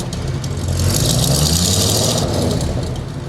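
Classic car engine idling slightly unevenly after sitting unused, a loud, steady low rumble with an uneven pulse and a hissy upper layer, heard close up without talk.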